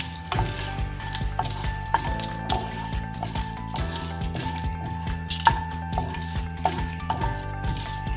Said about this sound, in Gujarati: હવે વરિયાળી, ધાણા, એલચી અને લવિંગ નાખી દઈએ. શેક સોતળાઈ જાય